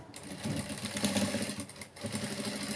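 A sewing machine stitching a boat neck blouse, running in a rapid, steady mechanical whir with a brief pause just before the two-second mark, heard close and alone.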